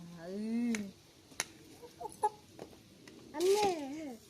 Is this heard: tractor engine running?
no